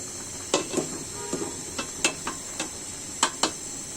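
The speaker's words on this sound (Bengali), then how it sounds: "নাড়াচাড়া করে দিতে হবে যেন তলাটা ধরে না যায়" Spoon stirring lentil dal with three kinds of vegetables in a cooking pot, scattered scraping and clinking taps against the pot over a soft sizzling hiss.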